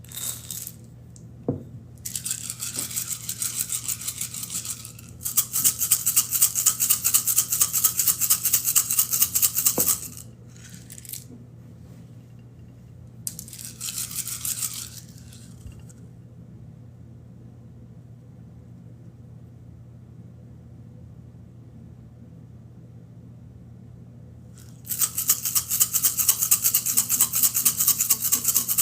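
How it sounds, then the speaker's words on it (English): A rocking chair creaking back and forth indoors, with bursts of bright scraping and rattling that come and go in several spells, separated by quiet stretches over a steady low hum. "Sorry about the noise of the chair"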